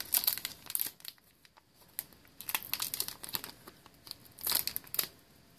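Yu-Gi-Oh! Arc-V Shining Victories booster packs are torn open up close, giving bursts of crisp wrapper crinkling and tearing that come in several short clusters separated by quieter gaps.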